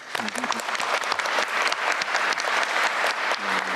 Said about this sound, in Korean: 박수도 한번 하시죠.